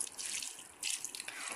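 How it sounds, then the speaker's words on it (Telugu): Water is poured into a rice cooker for a vegetable dum biryani, making a close, splashing, trickling stream with a few short breaks and gurgles along the way. "తర్వాత లాస్ట్ కి మనం వాటర్ యాడ్ చేసుకోవాలి."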